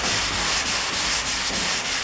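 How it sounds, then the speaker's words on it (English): A sanding block is rubbed by hand in steady, rhythmic back-and-forth strokes, a loud continuous rasp with regular brief dips between strokes, heard close up with no talking. "I'm just going to block sand this."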